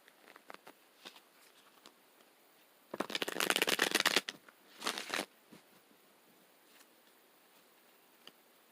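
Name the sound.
tarot cards being shuffled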